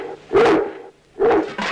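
A dog in a 1971 Czech animated film barks twice, two short, loud, separate woofs with a pause between them, alone without speech.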